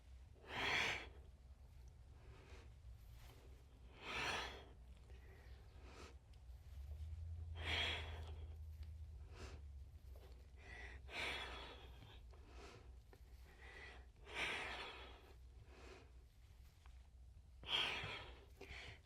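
Deep rhythmic breaths during a hybrid flow fitness workout, each inhale and exhale swelling clearly about every three to four seconds over a low steady background hum, close and fairly quiet with no talk.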